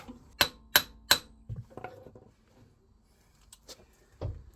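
Three sharp metallic hammer taps, close and evenly spaced, seating a wishbone suspension part on a 2014 Renault Clio, followed by softer clunks and faint handling noises in a quiet workshop.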